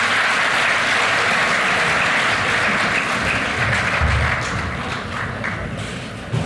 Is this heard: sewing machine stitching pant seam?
no